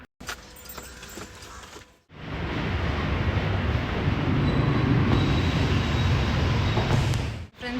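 Inside a metro train during a ride, a quieter stretch cuts off into a loud, steady rushing rumble of the carriage in motion that holds for several seconds before dropping away, with no voices.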